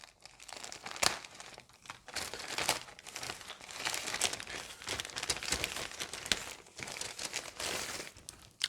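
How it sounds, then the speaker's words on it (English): Knife slicing open plastic bags holding Zoids Blade Liger Leon model kit parts, a steady stretch of close crinkling and rustling plastic with sharp snaps and tearing bursts. "Give me the knife here so that we can get these parts out of their bag"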